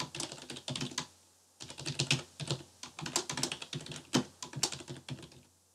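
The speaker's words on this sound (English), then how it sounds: "in row number one, we are going to type cottage rental revenue summer season." Rapid clicking of computer keyboard keys in bursts with short pauses, close and fairly quiet, with no voices.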